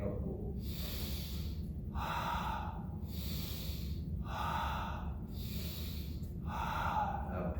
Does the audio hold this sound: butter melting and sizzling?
no